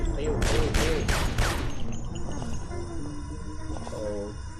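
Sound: gunfire in the video game Gun, Gore & Cannoli

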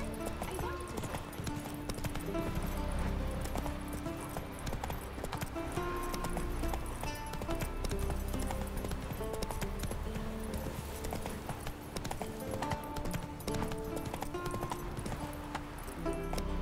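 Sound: horse Roach galloping in video game The Witcher 3

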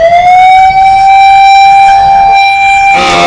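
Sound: ambulance siren stuck in traffic jam

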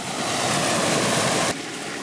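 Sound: rushing mountain stream after heavy rains

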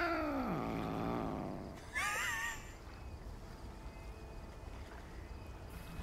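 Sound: cat meowing in video game Lake

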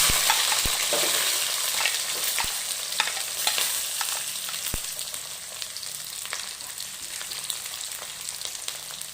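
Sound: garlic sizzling in hot oil

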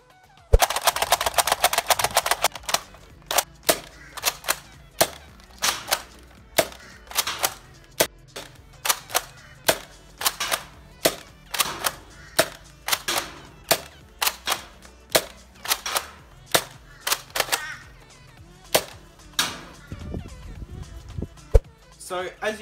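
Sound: modified Nerf Tri-Strike springer blaster firing test

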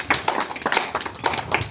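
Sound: audience clapping loudly

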